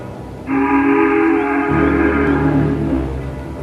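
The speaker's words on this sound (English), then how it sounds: "Then the sound of Timothy's whistle was heard." A steam train whistle blows one long, loud sustained blast in a steady chord, which then drops lower and continues with a deep rumble beneath before gradually easing off.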